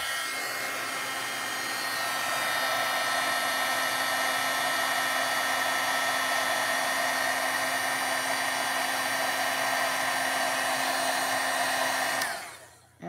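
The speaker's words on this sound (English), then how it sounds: "now we're gonna heat it up" An electric heat tool blows a steady, loud whirring hiss over clear ink and embossing powder, running continuously for about twelve seconds before it cuts off abruptly, with no one speaking.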